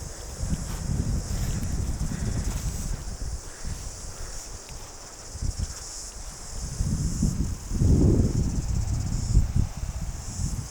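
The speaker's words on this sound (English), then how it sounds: "the noise of the cicadas" Cicadas in New Zealand around New Plymouth keep up a continuous high-pitched buzzing drone, steady and fairly loud throughout, with broadband rustling or wind noise in the low range swelling at times.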